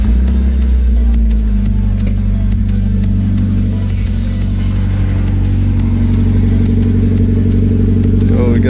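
A Mazda NB Miata engine, just fitted with a new gasket, spark plugs and wiring after an oil leak, runs loud and close with a rough, steady idle throughout.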